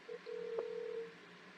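A telephone keypad sends DTMF dialing tones during a call: one short beep, then a longer steady tone lasting about a second, fairly faint over a quiet line.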